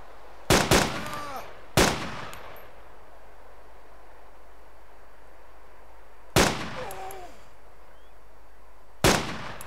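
Four sharp, loud gunshots ring out in the DayZ video game, two close together near the start, then two more spaced apart later, each with a brief echoing tail over quiet background.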